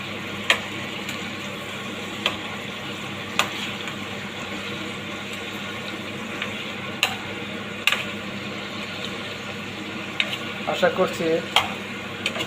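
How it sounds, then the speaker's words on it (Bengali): Shrimp coated with turmeric, chili and salt fry lightly in a pan, a steady close sizzle broken by stirring scrapes and occasional sharp clicks, with a brief spoken phrase. "এই চিংড়ি মাছ হালকা হলুদ এবং মরিচ এবং একটু লবণ দিয়ে মেখে হালকা ফ্রাই করে নিচ্ছি।"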